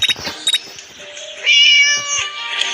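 A cat meows in the video game Scary Teacher, giving several short, high-pitched calls up close and fairly loud, then a longer drawn-out wail over other game sounds.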